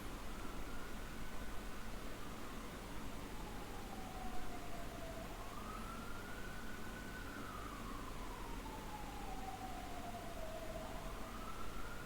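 Ambulance siren passing outside, a faint rising and falling wail that sweeps slowly up and down throughout under steady background hiss.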